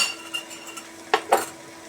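A metal spoon stirs chicken curry in a pan after dry-roasted gram flour is added, giving a few soft scrapes and two crisp clinks against the pot.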